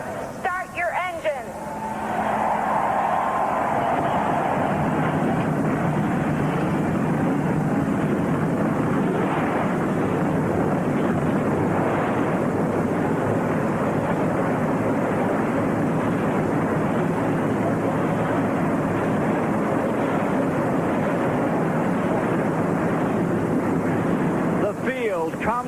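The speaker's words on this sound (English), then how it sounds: "Drivers, start your engines." Stock car engines fire up and roar together at the Miller 400 race at Michigan International Speedway, a loud sustained rumble filling the whole stretch.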